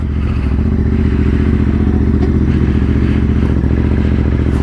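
A Ducati DesertX motorcycle engine runs close by at a steady idle, a continuous throbbing rumble with a light mechanical clatter on top, with no talking.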